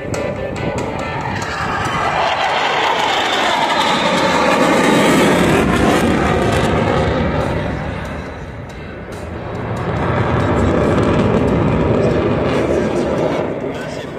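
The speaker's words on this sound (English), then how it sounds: "Squat the jet and light the burners one last time." Military jet roaring past at an airshow with afterburners lit, a loud broadband engine rumble that swells, dips briefly, then surges again as it passes nearby.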